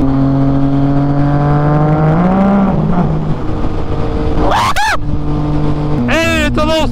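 A Lotus Evora engine revs hard, its rising harmonic whine climbing and then dropping away, followed by sharp high whooshing sweeps close by, with a steady engine drone underneath throughout.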